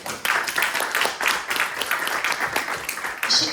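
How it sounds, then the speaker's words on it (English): Audience applause for an event organiser at a film festival panel in Cannes, steady clapping from a crowd that is fairly close and moderately loud. "Big round of applause for Nicole"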